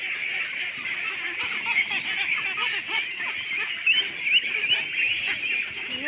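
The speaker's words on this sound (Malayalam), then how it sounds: "എന്റെ പൊന്നു താറാവേ എങ്ങോട്ട് ഓടുക?" A duck calls repeatedly with raspy, nasal quacks close by, an almost unbroken stream of honking over the whole stretch.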